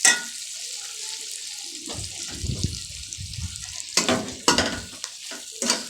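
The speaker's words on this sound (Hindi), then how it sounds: "1-2 मिनट इसको करना है फ्राई।" Chicken fried rice with sliced capsicum frying in a pan, with a steady high sizzle and irregular spatula stirring and tossing bursts, plus splashy watery hiss; no talking.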